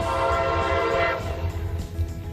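A shorter train passes through a small Southern Indiana town, its horn blaring loudly at first and then fading, over a low rumble of rolling cars.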